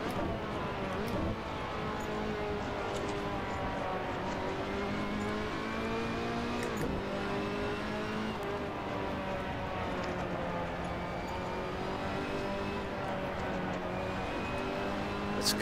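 Race car engine in Assetto Corsa Competizione at Mugello, a steady droning note that climbs and drops with gear changes across the lap, heard alone without talk.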